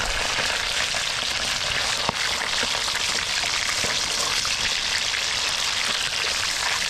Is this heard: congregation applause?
no